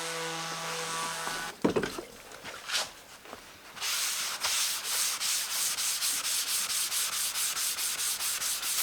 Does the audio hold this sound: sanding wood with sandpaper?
yes